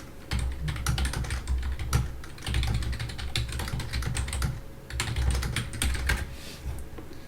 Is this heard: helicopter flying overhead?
no